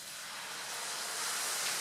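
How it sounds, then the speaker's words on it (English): A soft, steady hiss of wine sizzling in a hot pan while making risotto, faint and continuous without any voices. "You can hear that really sizzle"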